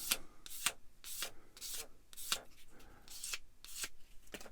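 Short brisk strokes of a sanding stick on a plastic part from a Bandai Star Wars 1/144 AT-AT model kit, about eight quiet scratchy rubs in an irregular rhythm, close and soft, with no talk.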